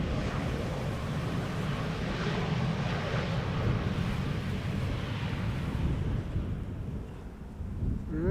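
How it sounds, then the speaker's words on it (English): An Embraer 190 airliner arrives at Schiphol, a loud broadband jet roar rumbling steadily overhead before easing slightly toward the end, with no talk. "Embraer 190."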